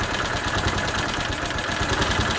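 A Bennche 500 UTV engine with a knocking, smoking motor idles steadily at close range, a continuous rumbling drone with a faint pulsing vibration and no voices.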